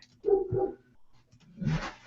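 Dogs bark in two short, moderately loud bursts separated by a brief pause, heard without any talking.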